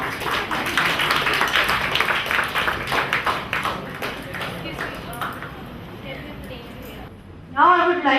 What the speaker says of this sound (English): We all have a round of applause for her.